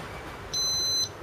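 A Meta M357 motorcycle alarm gives one steady, high electronic beep lasting about half a second when the key fob is pressed. It sounds clear against quiet background hiss, with no talking.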